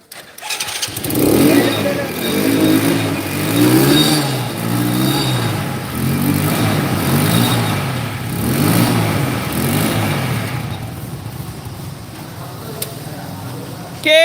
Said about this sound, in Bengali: খুলে স্টার্ট করতে দাও